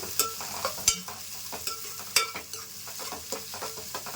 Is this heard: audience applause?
no